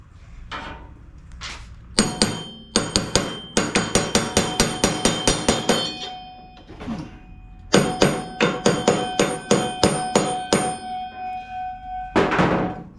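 Hammer blows on a Husqvarna YTH1842 riding mower deck during a rebuild, a close metallic banging in quick rhythmic bursts of many ringing strikes, separated by short pauses.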